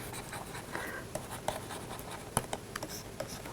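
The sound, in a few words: writing out a theorem statement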